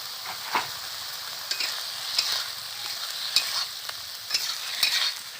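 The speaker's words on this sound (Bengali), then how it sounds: "মশলার সাথে ভালো করে নেড়ে নেব।" Fried potatoes with chilli powder and spices are stirred in a frying pan for a hilsa fish curry, with a gentle sizzle throughout and a spoon scraping and tapping the pan now and then.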